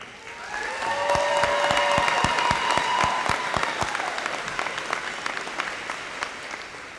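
Sustained applause from a large crowd at a Hocking College summer graduation ceremony, a broad continuous roar of clapping with some distinct loud nearby claps and faint cheers, no speech over it.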